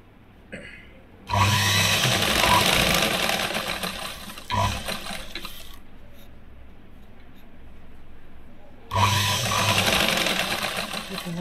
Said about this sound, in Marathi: आता दुसऱ्या बाजूने गळ्याच्या टीप मारून घ्यायची.